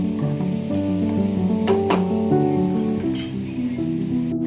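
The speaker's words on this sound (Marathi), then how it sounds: "मस्त आपण फ्राय करून घेऊया जिरा पण टाकून" Cumin seeds fry in hot oil for sabudana khichdi, giving a steady, close sizzle with a few brief sharper crackles and spits throughout.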